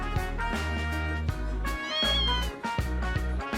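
A cat meows repeatedly in the Tokyo Xanadu eX+ video game. The cries come in a loud run of drawn-out calls over steady game music, with no talk.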